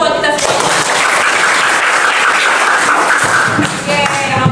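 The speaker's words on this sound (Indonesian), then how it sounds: "Tepuk tangan dong buat kita semua." Applause from a classroom of students at a school teacher-training session, steady dense clapping filling the whole stretch at close range, tapering slightly near the end.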